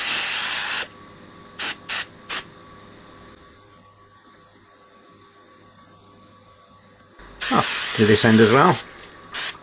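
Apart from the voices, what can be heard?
foam cleaner sprayed onto tape deck circuit board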